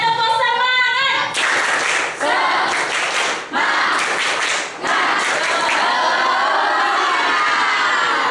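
An Indonesian classroom of children does a 'tepuk semangat' clapping chant, clapping in rhythmic bursts and shouting together in a loud, close group cheer, with short breaks between the rounds of clapping.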